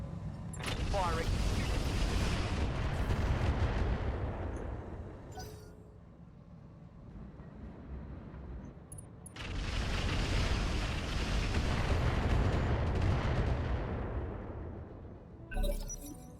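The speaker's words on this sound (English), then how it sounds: "Firing." Mech weapons fire in the BattleTech mod Roguetech, two long, heavy bursts of roaring, crackling blasts separated by a brief lull, loud and dense with rumbling low end and sharp impacts near the end.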